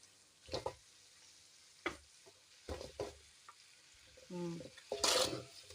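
Chicken feet go into a pan to fry, bringing a few scrapes and clacks of stirring, a brief sizzle and some quiet clatter, fairly close and soft with long pauses between the sounds.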